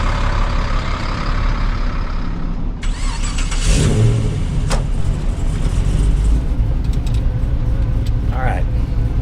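An off-road vehicle stuck during a recovery revs hard and spins its wheels, the engine roaring loud and close throughout with rising surges, while people talk over it.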